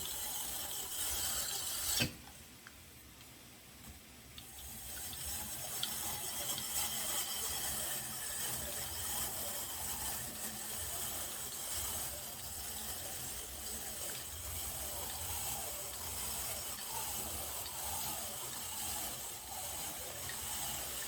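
A Salad Master machine fitted with cone number 1 grinds and rasps through frozen purple yam, a steady close scraping, ratcheting churn running continuously after a brief sharp start, with no talking.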